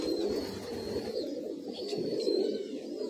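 Madrasi high flying pigeons at a loft coo in a continuous low, throaty murmur, a steady close rumble with a few faint higher chirps over it.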